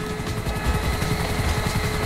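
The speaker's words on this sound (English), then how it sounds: "I gotta pull the chopper out a minute." A helicopter's rotor and engine drone steadily and loudly in Grand Theft Auto 5, a continuous throbbing chop with a whining tone and no pauses.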